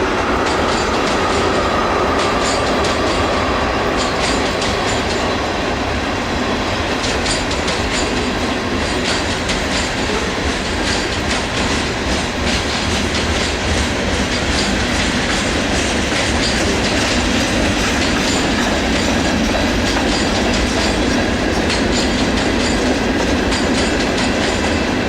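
A Norfolk Southern NS 165 manifest freight train rolls past close by, a loud, steady rumble of wagons with clattering wheels that goes on without a break.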